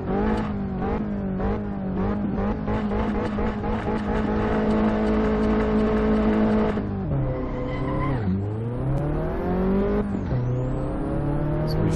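A race car in the Assetto Corsa driving game, on a novice time trial at Vallelunga, revs hard through rising engine pitch with repeated quick gear changes, then drops in pitch with faint tire squeal, loud and continuous with no talking.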